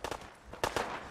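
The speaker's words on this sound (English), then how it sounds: "I hear gunfire and don't know" Gunfire in the video game Fallout 4: a quick cluster of sharp shots in two short bursts within about a second.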